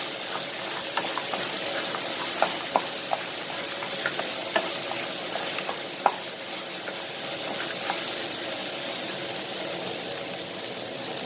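Moray eel pieces dry stir-fried in a pan for a crispy basil stir-fry give a steady broadband sizzle with scattered small clicks and one sharper tap near the end, close and continuous, no voices.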